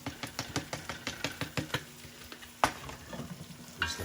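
Onions with paprika, cayenne and black pepper tossed in a cast iron pan for onion soup, a steady close sizzle broken by rhythmic scraping stirs and one sharper knock midway.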